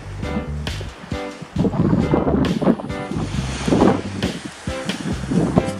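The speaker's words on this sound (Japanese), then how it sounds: "やや強めのオフショアが背後から吹いてます。" Strong offshore wind blowing from behind on a cold morning at a flat Sea of Japan surf spot, a steady loud rush of gusty wind buffeting the microphone, with low rumbling surges and faint wave wash underneath.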